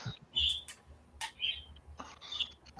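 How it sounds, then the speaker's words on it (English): Birds chirp outside a garage door in short bright bursts, three or four clear calls spaced across the moment, with faint clicking and background noise between them. "At least the birds sound good."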